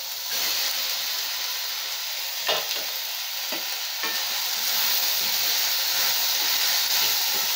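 Chopped chow chow tossed into a pan of onion and tomato for a Mysore-style kootu sizzles steadily, with a few sharp scraping stirs near the start, a continuous close frying hiss with no voices.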